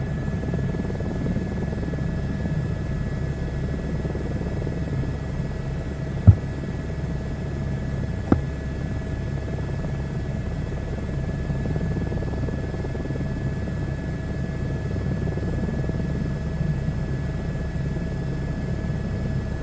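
A helicopter flying in a flight simulator game over Wales and West England, with a steady, continuous rotor and engine drone throughout, plus two brief clicks partway through.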